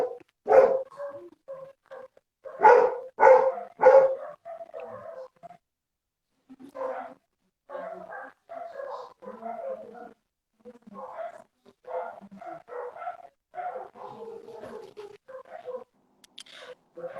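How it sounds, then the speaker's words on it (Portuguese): A dog barks repeatedly at close range, with loud bursts early on, then intermittent vocal sounds continue at a lower level through the rest. "meu cachorro tá latindo"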